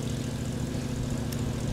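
The engine of the Avro Lancaster bomber NX611 runs up during a ground test on a concrete pad, a loud, steady, throbbing propeller drone heard close and uninterrupted.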